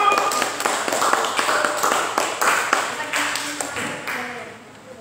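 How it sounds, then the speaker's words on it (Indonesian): A church congregation claps hands in a burst of sharp, overlapping claps that fade gradually over several seconds, with a voice talking over them. "Ya, tepuk tangan dulu."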